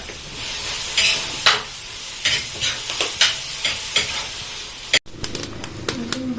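Chicken pieces fry in hot oil for fried chicken, giving a steady sizzle and hiss with frequent scraping and clinking of a utensil against the pan, ending in a brief cut and a few sharper taps.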